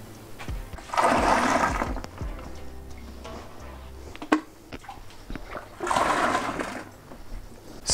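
Cold water poured into a fermenting bucket for a hazy IPA homebrew, two loud gushing bursts a few seconds apart with quieter clinks and a sharp knock between them.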